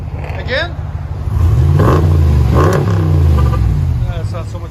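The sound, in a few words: RAM 1500 5.7L HEMI V8 exhaust revving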